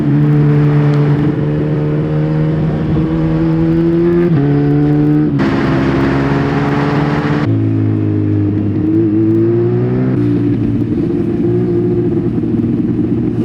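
Steady stream of cars and motorcycles on a busy Swiss Alpine mountain pass, engines droning and shifting pitch as vehicles pass close by one after another, with occasional revving and no talk.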